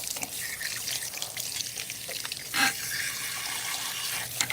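Tap water runs steadily at a salon sink while hair is rinsed, a close, continuous hiss and splatter with a brief louder splash partway through.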